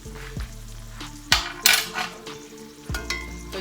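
Lamb chops searing in a pan of oil with rosemary, thyme and fresh garlic, a steady close sizzle broken by several sharper bursts and clatters as the meat and pan are handled.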